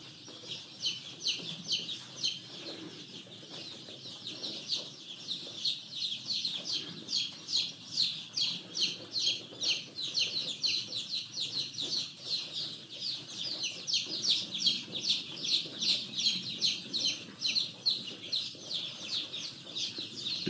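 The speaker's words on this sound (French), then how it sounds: "il y a beaucoup de poussins aussi qui sont là, toujours fatigués" Young cockerel chicks kept as a group in a coop cluck and cheep constantly, a dense rhythmic chorus of many birds that swells and continues throughout, fairly close, with no talking.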